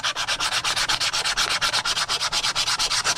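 Used 120-grit sandpaper is rubbed sideways across a wooden surface in steady, rhythmic back-and-forth strokes, close and loud, about seven strokes per second, with no talking.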